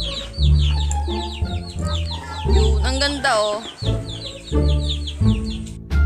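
Hens clucking and chattering in a busy cluster, with higher squawks mixed in, while a person speaks briefly over them.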